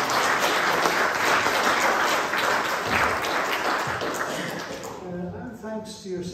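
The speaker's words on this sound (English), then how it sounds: "a nice round of applause for the ladies." A church congregation at a Sunday breakfast service gives a sustained round of applause that fills several seconds before fading out, with a voice speaking as the clapping ends.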